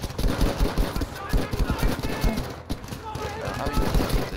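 Rapid gunfire and battle noise from the video game Battlefield V crackle in dense, uneven bursts throughout, loud and busy, with someone talking over the action.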